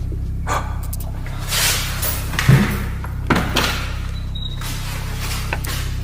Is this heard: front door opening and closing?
yes